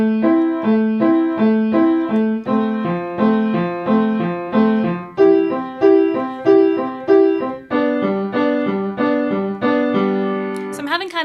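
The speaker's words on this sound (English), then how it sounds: "You can go ahead and play the 3rd and the 5th of the chord together and then hit the root of the chord like this." Intermediate piano comping in broken chords: the third and fifth are played together, then the chord root follows, in a steady repeating rhythm of bright, close notes. A higher chord is struck at the end.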